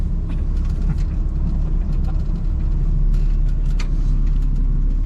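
A 1967 Dodge Dart on a test drive, its engine giving a loud, steady low rumble with road noise throughout, heard from inside the car with no talk over it.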